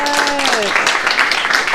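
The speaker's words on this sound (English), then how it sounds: "let's give a round of applause" Audience applause for a speaker at a fungus fair talk on fungal biotech, a dense, steady patter of clapping that fills the room while a voice briefly sounds at the start.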